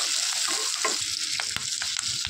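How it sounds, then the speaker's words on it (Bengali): Onion and capsicum fry lightly in a pan for restaurant-style chilli chicken, with a loud, close, continuous sizzle and sharp clicks and scrapes of stirring throughout. "এবার কেটে রাখা পেঁয়াজ ক্যাপসিকামগুলো দিয়ে দেবো, দিয়ে এটা দিয়ে একটু ভালো করে হালকা ভেজে নেবো।"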